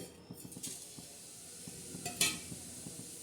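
Cumin seeds crackle and sizzle in hot oil in a kadhai, soft rapid popping with a few small metallic clinks, close by and with no talking.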